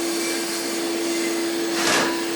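A grinder works on a Saturn lamp with wire, producing a steady motor whine and broadband hiss that swells briefly near the end as the tool bites harder, fairly quiet and heard alone.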